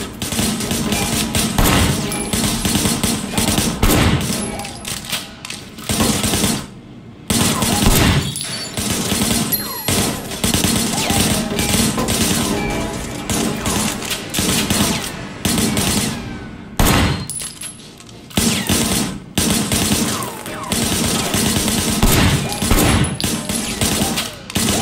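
Gunfire in the Sleeping Dogs video game, bursts of rapid shots and fusillades crackling loudly across the scene with short pauses between volleys, a brief voice now and then.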